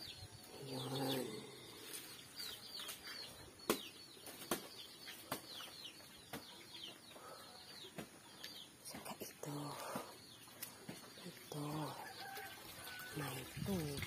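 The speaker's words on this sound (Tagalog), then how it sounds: "Ang mga manok" Chickens cluck and squawk softly at a small farm, with wings flapping and sharp clicks and knocks scattered through, faint and somewhat distant, with occasional calls rising above the background.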